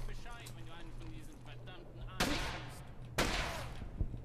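Gunfire from the World War II shooter Brothers in Arms: Hell's Highway, with two sharp, loud broadband blasts about a second apart and a small pop near the end, heard over a low steady game hum and faint background voices.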